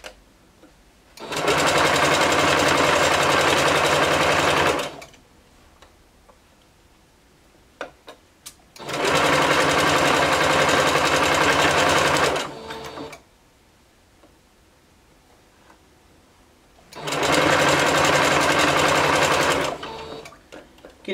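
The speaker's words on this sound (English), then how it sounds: "Getting this last bit attached, this can be sort of tricky, so just try to hold it while keeping your fingers out of the way" Three separate bursts of fast, even mechanical chatter from a sewing machine stitching bodysuit fabric, each run lasting a few seconds, with quiet pauses and small handling clicks between them.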